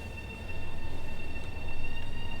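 Metro-North commuter train in Train Sim World 2 running with a steady rumbling drone and faint high tonal whine, swelling slightly louder partway through, with no talk over it.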